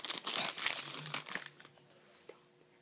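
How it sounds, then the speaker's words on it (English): An item is pulled free of plastic wrap, giving soft, close crinkling and tearing rustles that are busiest at first and then thin out into quieter scattered crackles. "I pulled it out of the plastic wrap"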